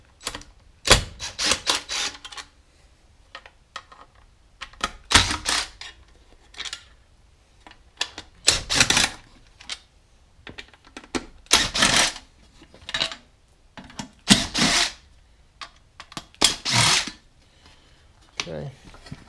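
A power driver zips Phillips head screws out of the taillight lens on a 1968 Mustang coupe, with repeated short whirring bursts separated by pauses, loud and close, and some talking between them.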